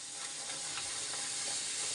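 Luchi, puffed Bengali flatbread, frying in hot oil in a home kitchen, giving a steady, close hiss of sizzling that holds evenly throughout without speech.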